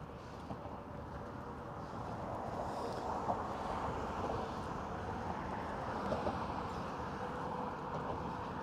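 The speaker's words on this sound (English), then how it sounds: "It's pretty windy up here." Steady wind buffeting the microphone high up on the Pulaski Bridge, a continuous low roar with gusty swells and no voices.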